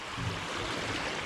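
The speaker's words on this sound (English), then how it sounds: "plenty of water overflowing" Water spilling over Hirst lock on a river after rain, a steady close broadband rush with no break and no voices.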